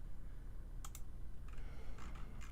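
Keys on a computer keyboard clatter in short bursts of a few sharp clicks each, spaced irregularly over a low background rumble.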